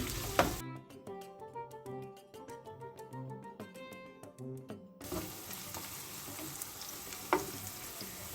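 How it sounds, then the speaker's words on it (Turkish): Chopped onions and meat sizzle steadily in a pan as they caramelize for Uzbek pilaf, with a couple of sharp clinks from stirring. Soft background music plays first and then cuts off, leaving only the frying. "Soğanlarımızı da etimizle beraber karamelize oluncaya kadar kavuruyoruz."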